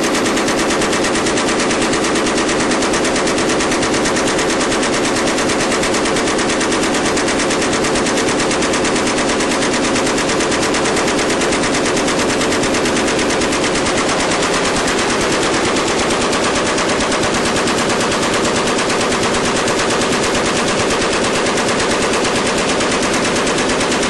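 Machine gun firing at about 850 rounds a minute, a loud, dense, unbroken stream of shots lasting over twenty seconds with no pauses and no voices.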